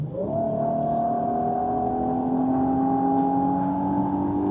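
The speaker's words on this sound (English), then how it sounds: "the good thing is this has an exhaust specially tuned for this Armada NISMO." A 2026 Nissan Armada NISMO with a specially tuned exhaust in sport mode revs up and holds a steady, rising drone, the engine note close and sustained with a faint background whir.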